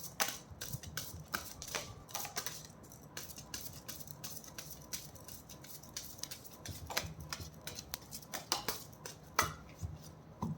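Tarot cards are shuffled by hand in a quiet room, giving a run of crisp riffling snaps and soft slaps in uneven bursts, close and fairly faint, with no talking.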